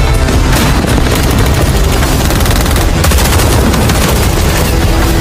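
The Odin gun fires in Call of Duty Mobile Battle Royale: loud, continuous rapid gunfire with heavy booming impacts that never lets up.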